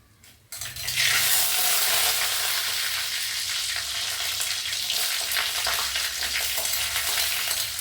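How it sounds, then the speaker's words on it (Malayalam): After a quiet start, dried red chillies drop into hot oil with already-popped mustard seeds for a Kerala sambar, bursting into a loud, dense, continuous sizzle with faint stirring. "കടുക് പൊട്ടിയിട്ടുണ്ട്. ഇനി നമുക്ക് ഉണക്കമുളക് ഇട്ട് കൊടുക്കാം."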